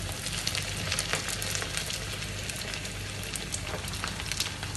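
Kannur-style ney pathiri fries in a pan, being flipped over, with a loud, steady, continuous sizzle and crackle heard on its own.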